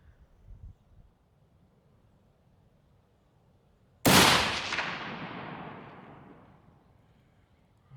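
A single loud rifle shot cracks during a fallow deer hunt in Tasmania, its echo rolling away over several seconds across open country, with faint low rumbling before it and no talk.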